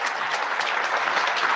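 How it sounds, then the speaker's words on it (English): Applause at an exile repatriation homecoming ceremony, a thick, loud wash of many hands clapping at once, steady from start to finish. "let's give them a good round of applause"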